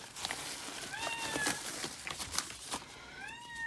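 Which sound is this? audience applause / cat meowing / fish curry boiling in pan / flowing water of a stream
cat meowing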